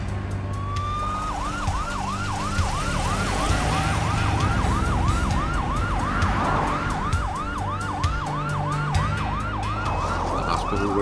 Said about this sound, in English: Paramedics moved her into the ambulance to rush her to the hospital at Hilo.